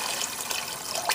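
Water poured from a tap or jug into a soup pot holding beef broth and vegetables for mung dal soup, a steady close splashing stream that runs throughout.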